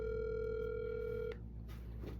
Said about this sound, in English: Phone works, rings,